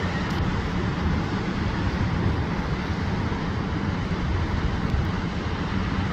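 Powerful waterfall near Taupo, New Zealand, a steady loud broadband roar of rushing water filling the whole span without a break.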